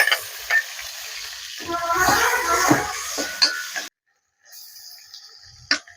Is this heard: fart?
no